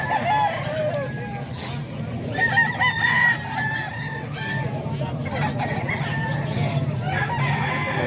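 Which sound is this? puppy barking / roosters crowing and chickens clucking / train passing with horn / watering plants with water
roosters crowing and chickens clucking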